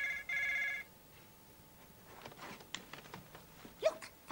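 A telephone rings in a single short burst of bright trilling bell tones, then the line falls quiet apart from faint scattered clicks and a brief squeak.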